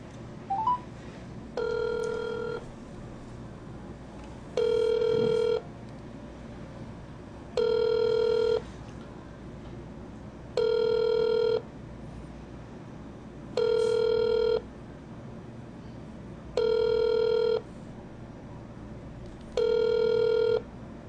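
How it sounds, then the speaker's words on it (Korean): A phone call rings out on the line: a short dialing blip, then seven evenly spaced ringback tones, each about a second long with equal pauses, steady and moderately loud over faint room noise. "봉매한테 일단 전화 좀 하도록 하겠습니다."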